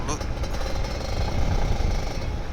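A Kawasaki Ninja RR 150 two-stroke motorcycle engine is revved while warming up, a rough, loud, close buzzing drone that pulses and rises briefly.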